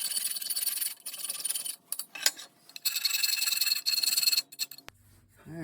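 Hand file lightly deburring a metal part for a rolling mill twisting attachment, several short rasping strokes in bursts with brief pauses, close and distinct, ending in a faint metallic clink.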